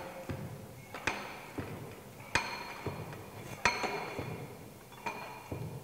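Repeated hammer blows from a Proctor test compaction hammer striking soil in a mold during road construction testing, sharp metallic knocks at an irregular, roughly one-per-second rhythm, fairly faint with background noise.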